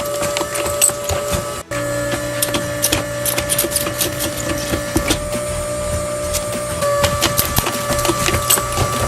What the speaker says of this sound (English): This process is called pad printing, in which you transfer a 2D image onto a 3D object via a silicon pad